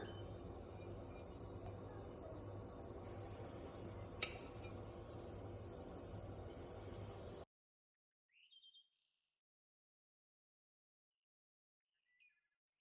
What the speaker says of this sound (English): I'm going to show you how to fry them next